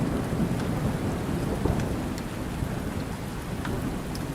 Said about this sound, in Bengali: বৃষ্টির কোনো বিরাম নেই।